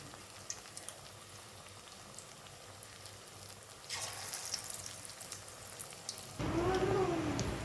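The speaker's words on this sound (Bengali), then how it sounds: "এভাবে একে একে আমি সমস্ত পকোড়াগুলোকে সুন্দর করে ফ্রাই করে নেব" Chicken pakoras frying in oil over a low gas flame, a faint, steady crackle and sizzle that gets louder and denser partway through as more pieces go in. No one speaks.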